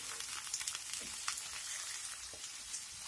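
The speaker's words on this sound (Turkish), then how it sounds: "Bu şekilde 5 dakika boyunca kavuruyoruz kısık ateşte." Pickles sauté over low heat, a soft continuous crackling sizzle with a gentle patter like light rain, quiet and steady with no voices.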